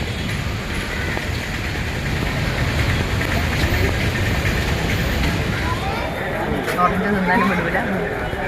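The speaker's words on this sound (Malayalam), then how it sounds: "Kannur railway station" A steady low rumble of a train at Kannur railway station, constant throughout, with indistinct crowd chatter around it.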